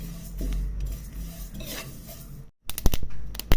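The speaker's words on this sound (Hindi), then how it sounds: "ये फ्लैक्स सीड्स और सफ़ेद तिल और कद्दू के बीज के हम भून लेते हैं खुशबू आने तक" Flax seeds, white sesame and pumpkin seeds roast in a pan, with close scraping and stirring of a utensil against metal, a soft sizzle, then a brief pause before sharper clinks and scrapes.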